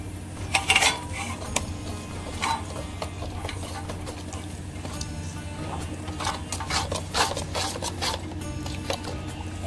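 Mustard oil is worked into mango kasundi with a utensil, giving close, irregular scraping and clinking against the container, with sharper knocks early and continuous rubbing throughout, no talk.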